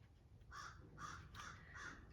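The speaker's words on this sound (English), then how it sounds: "Sorry if you can hear those loud crows outside." Four loud crow caws sound outdoors in a steady, evenly spaced series over a low background hum, with no talking.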